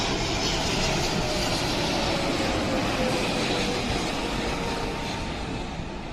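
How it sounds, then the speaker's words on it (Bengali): A large Biman Bangladesh Boeing 777 arriving from Jeddah and landing at Dhaka airport, a loud, continuous broadband engine roar that holds steady and eases off slightly toward the end. "বাংলাদেশ বিমানের একটি বিশাল বড় বিমান দেখতে পাচ্ছি, এগিয়ে আসছে। এটি জেদ্দা থেকে এখন ল্যান্ড করবে।"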